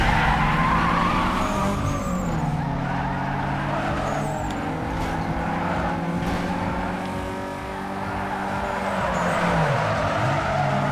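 A car drifts with long, continuous tire skidding and squealing over a steady engine roar in the racing video game Need for Speed Underground 2. The sound stays loud and close throughout, with no talking.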